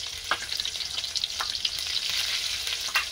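Shrimp frying in hot oil with black cumin seeds and slit green chilies, a continuous close crackling sizzle with occasional stirring scrapes and pops, no voices.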